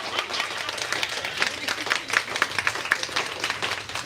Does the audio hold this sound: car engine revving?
no